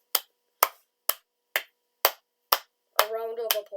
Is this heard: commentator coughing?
no